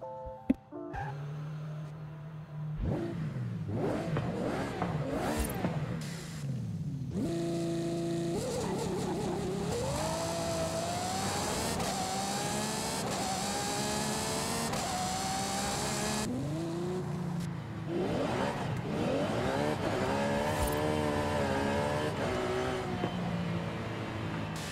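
In Forza Horizon 5, a Ferrari 812 Superfast V12 revs and accelerates repeatedly, its high, rising engine wail climbing through gears with brief lifts between pulls, tire squeal mixed in, loud and continuous with no talk.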